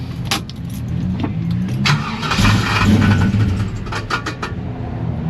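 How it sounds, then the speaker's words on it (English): A car engine runs with a suspected loose flywheel, giving an uneven, knocking mechanical rumble with rattling clatter over a steady idle, fairly close and moderately loud, with no speech. "Sounds like the flywheel's loose."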